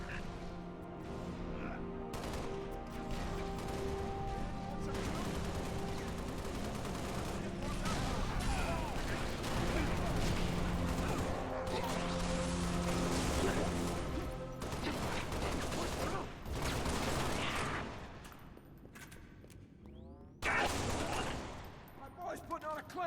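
Heavy gunfire in the Halo Reach video game, bursts of automatic fire and explosions layered over a loud battle din, with voices talking over the fighting at times.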